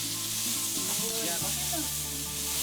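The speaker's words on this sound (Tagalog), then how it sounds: "So yung oil, pinapabango lang natin with our aromatics." Hot oil sizzling with turmeric, onions and garlic in a pan, a loud, steady crackling hiss running throughout with a low hum beneath, close and continuous.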